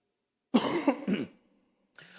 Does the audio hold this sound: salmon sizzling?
no